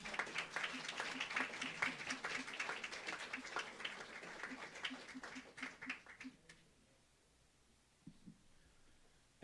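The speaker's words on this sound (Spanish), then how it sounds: "¿Pueden darle un aplauso al Señor Jesucristo?" Congregation applauding in a church service, steady claps for about six seconds under a rhythmic low hum, then fading into near silence with a few faint scattered sounds.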